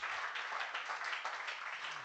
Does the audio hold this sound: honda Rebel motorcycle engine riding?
no